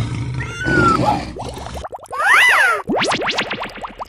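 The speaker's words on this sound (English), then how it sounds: "Lion." Lion roaring in a cartoon animal game, a short, loud, growling roar followed by playful swooping cartoon effects, with no talking.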